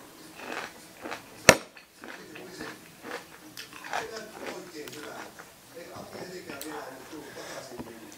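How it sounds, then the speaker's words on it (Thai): Crunchy bites and chewing of spicy pounded water spinach salad, close and moderately loud, with a sharp crunch early on followed by steady rhythmic chewing. "ถ้าใครฟังไปกรุดกรุดกรุด"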